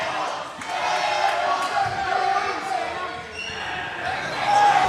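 A crowd at a high school boys' basketball game jeers after an air ball, a broad, steady wash of voices from the stands filling the gym at moderate volume.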